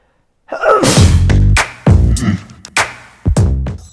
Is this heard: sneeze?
yes